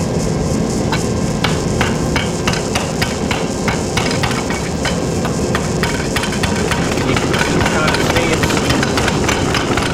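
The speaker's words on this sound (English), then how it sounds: "Working the metal, pushing it out into a point." A hot metal shaft salvaged from a vehicle transmission or line drive is hammered into a point, with steady, rapid ringing blows over a constant low engine-like drone, loud and close, with talk alongside.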